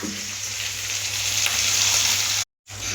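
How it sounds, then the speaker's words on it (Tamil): Beaten egg poured over chili and tomato fries in a pan with a loud, steady sizzle that swells slightly, then cuts off abruptly near the end before resuming. "நம்ம எடுத்து வச்சுக்கிற முட்டையை எடுத்து ஊற்றிக்கலாம்"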